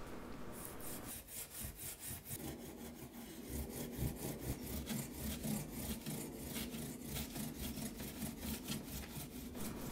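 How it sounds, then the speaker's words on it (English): A guitar fretboard being scrubbed with 0000 steel wool: a continuous, close, rhythmic rasping, fast strokes back and forth for the whole stretch, steady and alone. "I'm just going to strip off a little piece here and just start scrubbing the entire fretboard."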